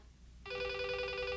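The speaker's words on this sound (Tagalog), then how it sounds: "Telepono, boss." After a brief quiet pause, a telephone starts ringing with a clear, steady electronic tone that sounds close by against a faint room background.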